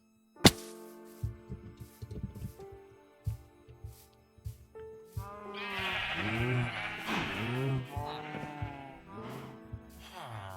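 Blocky sheep in Minecraft bleat repeatedly in a short burst of wavering cries, layered over soft game background music and a few clicking, tapping effects.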